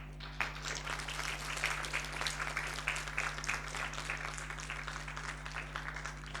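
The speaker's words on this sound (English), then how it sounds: "Give them a hearty round of applause." At a 2011 graduation ceremony, standing graduates give their parents a sustained round of applause, a continuous, somewhat distant crackle of many hands over a low electrical hum.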